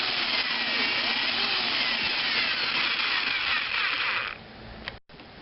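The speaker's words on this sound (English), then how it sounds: "and drill the other hole" A power drill bores a hole into a torchiere floor lamp, a loud steady close whine with grinding that runs for about four seconds before easing off and stopping.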